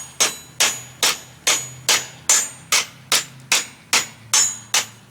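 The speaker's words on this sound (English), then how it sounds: "hammering out the bottom shape," Steady hammer blows ring on a fireplace shovel head being forged on an anvil, about eleven evenly spaced strikes, each sharp and bright with a short ringing decay, close up and without voices.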